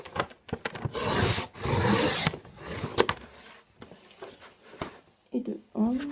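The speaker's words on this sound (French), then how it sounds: "Du coup, on va découper tout ça." Paper card stock being cut to make an envelope-style greeting card, with raspy scraping and rubbing strokes in bursts, close and fairly loud, interrupted by short pauses and a few sharp clicks and rustles near the end.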